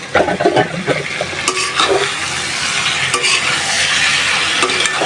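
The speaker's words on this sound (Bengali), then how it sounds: "আস্তে আস্তে মাছটা ভালোভাবে কষায় নিই মাছটার সাথে তেল মশলা যাতে ভালোভাবে ঢুকে" Tengra fish sautéing in hot oil and spices, a dense continuous sizzle with occasional stirring scrapes, close and fairly loud, with no voices.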